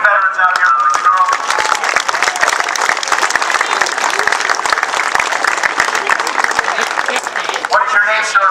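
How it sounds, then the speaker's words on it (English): A crowd applauds veterans at an outdoor unveiling ceremony, with steady, dense clapping and cheering sustained throughout, a few voices rising within the applause. "How about a round of applause for these great veterans out here"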